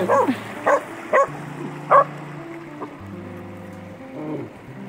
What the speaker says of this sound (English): I'm glad he barks when he's supposed to.